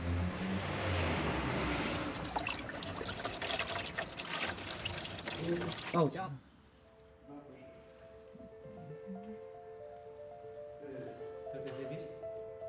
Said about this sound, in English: Once the plug is out, we let the old oil drain completely.